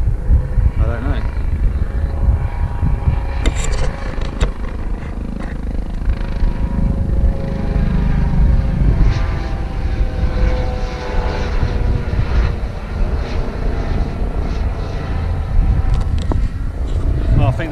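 Air ambulance helicopter circling overhead in cloudy Lake District hills, a steady loud droning rotor and engine roar that persists throughout, with people talking over it.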